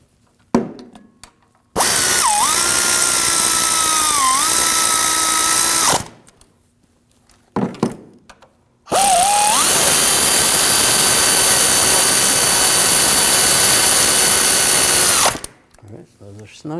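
A power tool whines loudly in two long bursts separated by a short pause, snugging down the driveshaft coupler bolts on a 2007-2013 BMW 328i with the 3.0L inline-six, its pitch dipping briefly under load.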